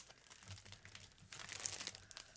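Cardmaking paper being cut in half, a soft, close crinkling and papery rustle that builds toward the end, with faint low handling noise underneath.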